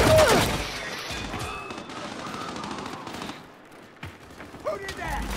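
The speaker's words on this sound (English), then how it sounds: "I'm just standing here shooting." Rapid automatic gunfire from the Gears video game fires in bursts, loud and close, with sharp cracks and impacts as players talk excitedly over it.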